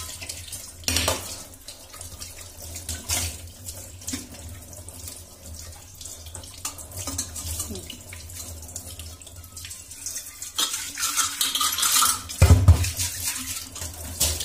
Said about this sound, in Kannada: ಅದನ್ನು ಸೋಪಿಂದ ಉಜ್ಜಿದ್ರೆ ನೀಟಾಗಿ ವಾಶ್ ಆಗುತ್ತೆ